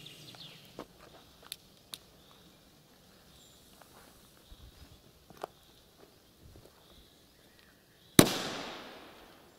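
Outdoors in Luxembourg, faint scattered crackles and small pops from firecrackers lead to a single sharp, loud bang that fades into a trailing echo. No one speaks.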